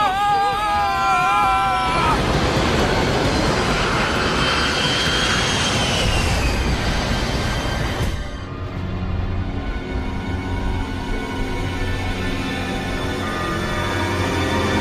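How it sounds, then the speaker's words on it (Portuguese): A dramatized airliner crash near the Trans-Siberian railway outside Perm, Russia, arrives as a loud, continuous engine roar with rushing noise that cuts abruptly to a lower, steady rumble. "O avião cai sobre a ferrovia Transiberiana, nos arredores de Perm, na Rússia."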